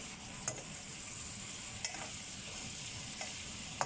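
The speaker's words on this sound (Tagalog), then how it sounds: "Hintayin lang po nating maluto ang bawang, sibuyas at saka luya" Garlic, onion and ginger fry in a pan for a Filipino bitter beef stew, with a soft steady sizzle and a few sharp clinks of stirring spaced through the clip.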